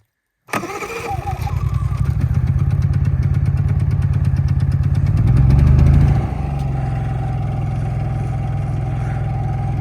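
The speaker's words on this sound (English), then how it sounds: "here's the trusty Honda 3000." A Honda 3000 generator at a snowy off-grid cabin starts abruptly with its choke pulled out, then settles into a close, loud, steady running hum with a brief surge partway through.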